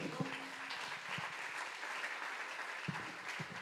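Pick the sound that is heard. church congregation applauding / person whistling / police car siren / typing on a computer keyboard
church congregation applauding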